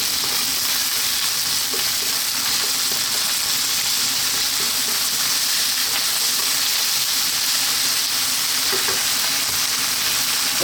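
Garlic ginger paste and salt sizzle and fry in a pan while being stirred for red lentil dal, a loud, continuous crackling hiss with faint scraping of the stirring, close and steady throughout.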